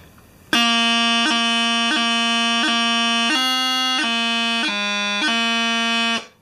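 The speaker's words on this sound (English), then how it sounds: "So a D grace note sounds like this." A bagpipe plays a steady drone-backed melody note broken by seven quick, crisp D grace notes at an even pace, loud and close.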